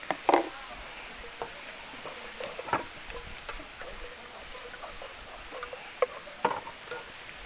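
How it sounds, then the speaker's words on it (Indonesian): Tempeh stirred in a frying pan with spices for a stir-fried tempeh and long bean dish, giving soft intermittent scraping and clicks over a low steady sizzle, with a few sharper knocks near the start. "kita aduk dengan bumbunya ini"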